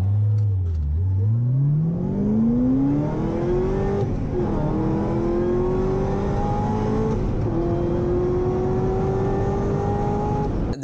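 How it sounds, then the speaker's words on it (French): A Corvette ZR1 engine revs hard and accelerates, pitch climbing steeply, dipping briefly at a gear change, then rising again; loud and close, no talking. "Corvette ZR1."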